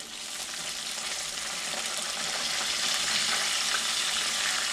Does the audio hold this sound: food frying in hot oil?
yes